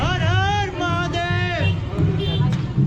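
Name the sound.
crowd at Gopinath festival near temple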